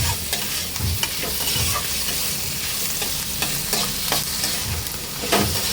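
Chopped chicken fried in a pan with capsicum, onion and garlic, a constant sizzle broken by repeated scraping stirs of a spatula, close and fairly loud with no talking.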